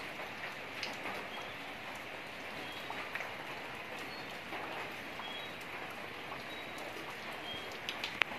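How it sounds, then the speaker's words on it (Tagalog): Steady rain falls on a garage in Manila, a continuous moderate hiss of drops with a few sharper taps, and no voices. "nabasa na sa ulan"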